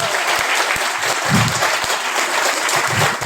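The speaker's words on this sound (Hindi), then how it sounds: "तालियां तो बजानी पड़ेगी" An audience claps for guests at a live event in steady, dense applause with a few sharper individual claps standing out, fairly close and continuous for the whole stretch.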